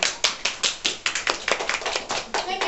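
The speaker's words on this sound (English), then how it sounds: "Clap, everyone" Sharp, fairly quick hand claps sound in an even rhythm, about a dozen distinct claps in under three seconds at a presentation, close and moderately loud with no talking.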